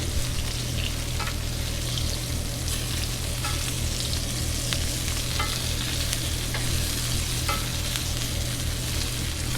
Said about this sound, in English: And then I'm going to butter baste.